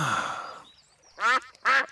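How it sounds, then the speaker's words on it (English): Two loud, close duck quacks in a Peppa Pig cartoon, each a short raspy burst, following a brief stretch of fading music-like tone, with no talk over them. "It is Mrs Duck and her friends"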